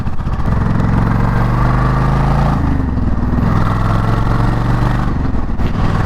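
A Suzuki Intruder motorcycle engine with a slipping clutch runs loudly and close, its steady, droning note rising and falling as the revs change, heard alone with no talking.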